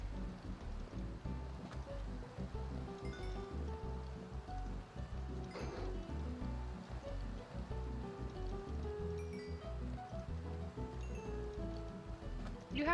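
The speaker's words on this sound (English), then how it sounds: "And it's raining again." Steady rain patters in Minecraft, a soft continuous hiss of in-game rainfall that runs evenly beneath faint background sound and voices.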